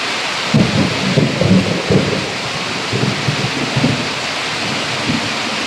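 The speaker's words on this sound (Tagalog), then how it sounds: "Tsaka kumukulog na, nakakatakot." Thunder rolls and rumbles through a steady wash of rain during a thunderstorm, with several loud, low booms coming in waves over continuous rainfall, close and enveloping.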